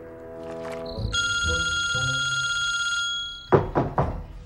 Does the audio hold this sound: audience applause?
no